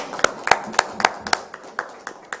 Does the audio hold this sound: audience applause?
yes